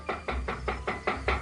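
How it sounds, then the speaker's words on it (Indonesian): Seven evenly spaced knocks on a wooden door, close and sharp with a steady rhythm, heard alone without voices. "Ada orang mengetuk pintu."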